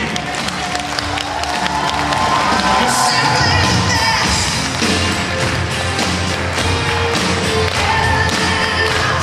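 Audience at a children's concert of creative groups at a regional out-of-school education centre in Sumy, breaking into loud, sustained applause and cheering, with scattered shouts and some thumps within the dense clapping.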